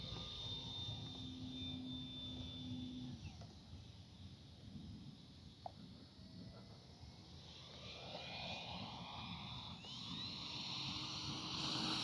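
A Flightline F4U Corsair 1600mm RC model warplane flies at full speed, its motor giving a steady, fairly loud droning whine that holds for the whole stretch over a constant wash of outdoor air noise.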